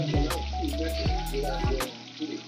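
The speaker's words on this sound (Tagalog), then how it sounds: "ginigisa ko muna yung patatas at saka yung carrots" Potatoes and carrots sauté in a pan, a continuous close sizzle with a few clattering stirs, under a low steady hum.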